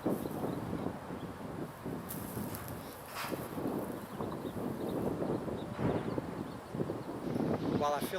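Wind gusts across the microphone on the Wortham Trail disc golf course as a low, uneven rumble, while someone talks over it.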